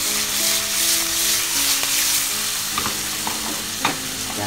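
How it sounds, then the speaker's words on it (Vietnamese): Pieces of fish stir-fried in hot oil in a pan, a loud continuous sizzle with clattering utensil knocks and tossing sounds, the irregular hits coming faster in the second half. "Lúc này thì xào khoảng 3 phút là cá nó chín."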